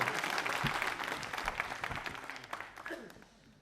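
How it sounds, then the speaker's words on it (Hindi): An audience at a televised quiz show claps in a loose, moderate burst that fades toward the end, with some voices mixed in. "तालियां जोरों से बजाओ यार"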